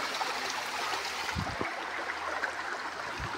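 A flowing hillside stream rushes steadily in the background, an even broadband wash of water with a few low thumps, moderately loud and unbroken, no talking.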